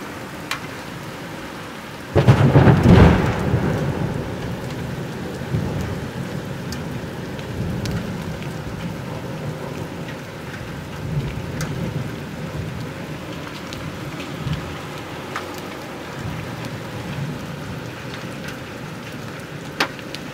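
A heavy thunderstorm batters Jelgava, Latvia, with rain and hail. A loud thunderclap breaks about two seconds in and rolls away, and a steady wash of pelting rain continues throughout with occasional sharp impacts.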